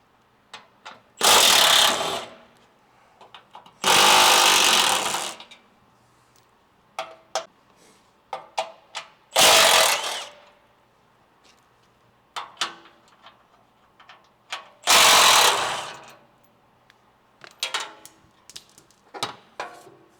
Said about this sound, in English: Next, we're going to remove the factory skid plate, which is held on with 4 12mm head bolts.